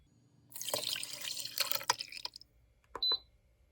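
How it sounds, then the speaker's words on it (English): Broth poured into a pan holding a cooking pork chop, a splashing liquid pour lasting about two seconds at close range, followed by a brief sizzle-like hiss; no talking. "add the broth."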